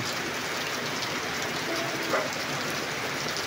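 Heavy rain pours down in a dense, steady roar, a constant wash of drops with no voices.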